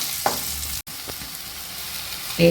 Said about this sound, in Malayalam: ഈ പഴം ഒന്ന് വാടണം പതുക്കെ അതിന് ശകലം വെളിച്ചെണ്ണ ഒഴിച്ചത്